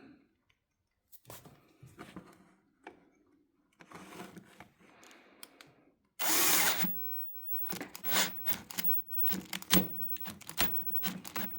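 A power drill whirs in short on-off bursts while repairing threads on a Hummel roller mount, with one longer steady run in the middle and clicks and handling noises between.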